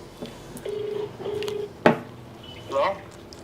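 A telephone keypad beeps through several dialed tones, a couple of them held longer, followed by a brief clack and a short voice near the end.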